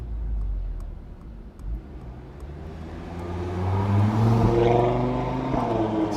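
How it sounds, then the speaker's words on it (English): An Audi RS3 with its exhaust valves open passes by on a road, heard from the roadside as a distant engine drone that swells louder toward the end. "let me wait on the side for the Audi RS3 to pass."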